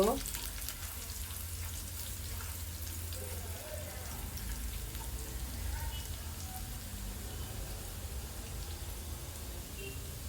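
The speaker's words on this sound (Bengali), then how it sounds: "এগুলোকে আমি কিছুক্ষণ নেড়ে নিব" Ingredients frying in a pan and being stirred, a dense, even, rain-like sizzle that holds steady and close for the whole stretch, with only faint stirring touches.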